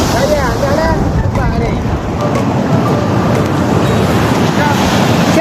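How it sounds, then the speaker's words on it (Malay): Steady, dense broadband hiss of heavy morning rain pouring down, loud and continuous, with a few faint voices faintly audible beneath the downpour. "Hujan lebat."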